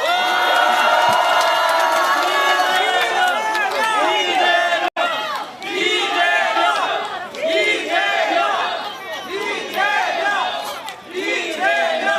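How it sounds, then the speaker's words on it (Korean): Audience at a Korean political party event greeting party leader Lee Jae-myung: loud crowd cheering, shouting and whooping with clapping mixed in, surging in waves with a brief break midway. "큰 박수 부탁드립니다"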